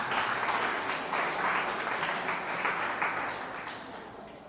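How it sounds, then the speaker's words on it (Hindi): An audience at a kavi sammelan poetry gathering applauds poet Pramod with loud, sustained, dense clapping that swells in waves and tapers slightly toward the end. "तो जोरदार एक बार तालियां प्रमोद जी।"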